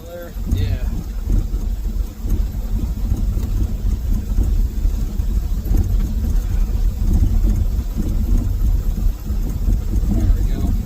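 A Ford F350 dump truck engine runs in a steady, loud low rumble right up close for the whole stretch, with no exhaust fitted, while someone talks over it.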